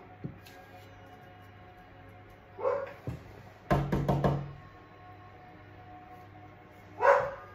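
Dogs bark indoors at home: a couple of isolated barks, then a quick cluster of several sharp barks, and one more after a pause, fairly near and moderately loud with quiet in between.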